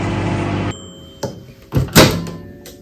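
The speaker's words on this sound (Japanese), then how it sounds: "電子レンジで温めちゃう" A microwave oven hums steadily while heating a drink of hot water, then cuts off and is followed by a click and a couple of loud door thunks as it is opened, close by with no talking.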